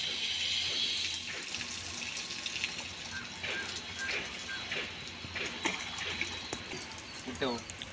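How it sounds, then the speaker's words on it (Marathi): Water poured slowly over a bull during washing, a soft trickling and splashing close by, fairly quiet, with someone talking over it throughout. "आस्ते आस्ते पाणी टाकायचं आहे."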